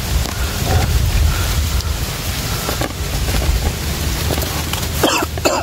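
Loud wind roars and buffets the microphone steadily throughout, with a few brief rustles and knocks near the end.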